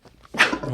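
A single short human sneeze bursts out sharply after a brief moment of faint background noise, close and fairly loud.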